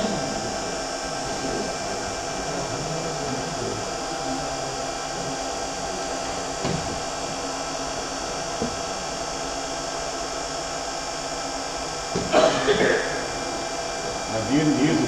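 A hair dryer blows steadily on a wood-turned birdhouse ornament, a constant close whooshing drone that continues throughout, with brief knocks and people talking faintly underneath.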